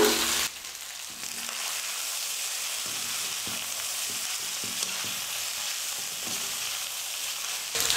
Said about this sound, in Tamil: ஸ்டவ்வை மீடியம் ஃப்ளேமில் வச்சுக்கிட்டு நல்லா கலந்து கொடுத்துக்கலாம்.